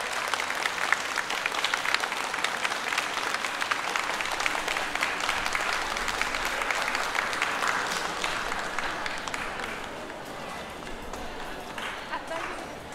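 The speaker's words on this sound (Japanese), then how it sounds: "吹奏楽部ニコシルフに今一度大きな大きな拍手お送りください。" A crowd applauds a school wind band at a live event in Tsuchiura, with steady, dense clapping that holds for several seconds and then gradually thins. A voice speaks over it.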